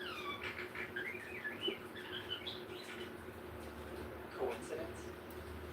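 Someone imitates a chirping bird with a quick series of high, twittering whistles in the first couple of seconds, followed by softer vocal sounds and a few brief chirps later on.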